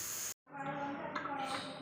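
A pressure cooker vents steam after its whistle while white kurma cooks, giving a loud, steady hiss that cuts out for a moment, then resumes and swells.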